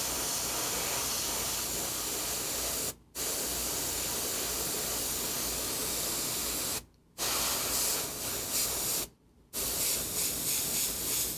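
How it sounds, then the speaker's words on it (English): An airbrush sprays water through itself to clean out leftover paint after miniature painting, giving a close, steady hiss that stops briefly three times. "I'm gonna spray this out, get all the extra out of there, spray a little water through it"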